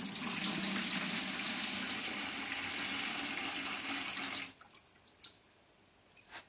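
Lemon juice is poured steadily into a bucket while making homemade lemon soap. It makes a loud, continuous splashing stream for about four and a half seconds, then stops, leaving faint drips and a small knock.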